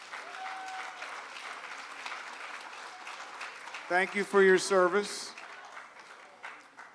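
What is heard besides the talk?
audience applause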